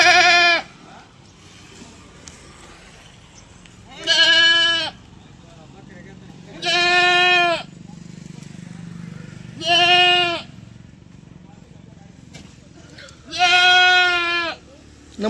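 Kathiawari pregnant goats bleating in five loud, drawn-out calls spaced a few seconds apart, close by, with a low murmur of background noise between them.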